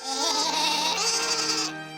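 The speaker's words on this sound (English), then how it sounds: "thousands of sheep" A loud, close Welsh mountain sheep bleat in the Brecon Beacons, one long wavering cry lasting nearly two seconds, with nothing else around it.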